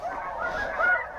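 Snow geese honk in a continuous overlapping chorus as they fly in during a November hunt, a loud, nasal clamor of many birds with no voices over it.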